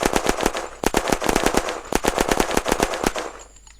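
P90 submachine gun firing in the video game Unturned, several rapid automatic bursts of loud, close gunfire separated by brief pauses, with the last burst trailing off.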